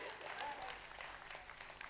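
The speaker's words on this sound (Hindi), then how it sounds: "चलिए जोरदार ताली सभी के लिए बजनी चाहिए।" Audience applause at a ceremony honouring war widows: a soft, steady wash of clapping from a crowd at some distance, with faint voices mixed in.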